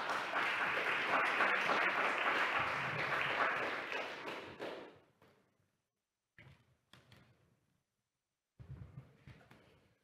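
Audience applause welcoming speaker Kali Akuno at a Jackson Rising talk: a dense, loud crowd clapping that thins out after about five seconds into scattered claps and knocks, with a short final burst.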